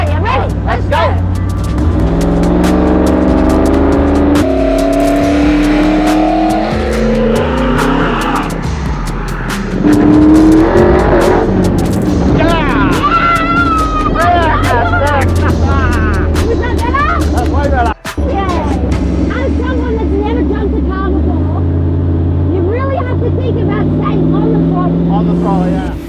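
A trophy truck engine roars loud and close, revving hard on the throttle with rising and falling pitch sweeps and a brief cut near the end, while people talk and shout over it.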